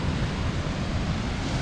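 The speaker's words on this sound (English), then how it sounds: "we are on the beach this morning." Ocean surf on the beach at Cape Henlopen State Park, Delaware, a continuous broad roar of waves mixed with wind buffeting the microphone, steady and fairly loud with no voices.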